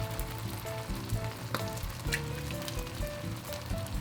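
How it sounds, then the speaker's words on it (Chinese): Oyster omelet batter frying in a pan over medium-low heat with a crackling sizzle, close and steady, dotted with small pops and a couple of light clinks. "粉浆都加进去之后，我们呢就让它慢慢的煎，转中火或小火慢慢煎就可以了。"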